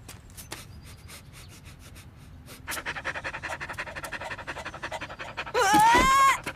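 Dog panting with rapid, rhythmic breaths, close and fairly loud, rising in intensity toward the end with a brief higher squeaky sound near the finish.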